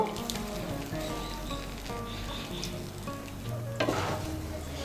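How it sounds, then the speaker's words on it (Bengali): Hot water being stirred into a thin Bengali fish curry in a pan, a steady close sizzle and bubbling with light scraping stirs throughout, no voices. "জলটাকে ভালো করে মিশিয়ে নেব।"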